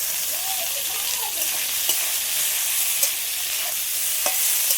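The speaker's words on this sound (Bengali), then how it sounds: "আলুর সাথে শাকটা একটু হালকা করে নেড়ে চেড়ে নিয়েছি" Helencha greens being stir-fried with potatoes in a pan, giving a soft steady sizzle with occasional scraping stir strokes of a spatula, fairly quiet and close, with no talking.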